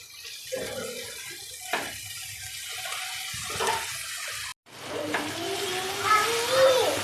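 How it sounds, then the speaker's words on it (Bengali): Water poured into a pan of boal fish curry masala, splashing and gurgling up close in a few bursts, then a brief cut and a steadier running pour with a hissing simmer underneath. "এবার দিয়ে দিচ্ছি জল।"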